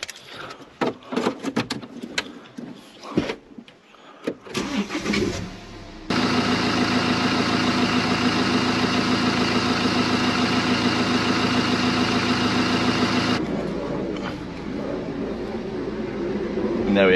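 A BMW X1 engine idles with a power steering fault, a steady even hum running close to the microphone for several seconds after some handling noises.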